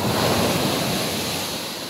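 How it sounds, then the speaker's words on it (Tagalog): Loud ocean surf roars in a broad continuous wash, with wind buffeting the microphone. "Ang lak ng alon."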